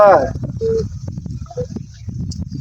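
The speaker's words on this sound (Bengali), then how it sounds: "ফোন আসলো" A phone rings with brief electronic ringtone beeps in a comedic electronics-shop advertisement, short tonal chirps heard close alongside people talking.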